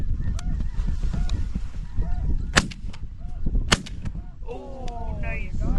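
Loud shotgun blasts ring out during a goose hunt, two sharp reports among steady honking and calling of geese, including Ross's geese, with brief voices and field noise underneath.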